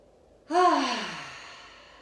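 A deep yoga breath in bed, a single long airy inhale or sigh that swells suddenly and slowly fades, close and clear with no talk.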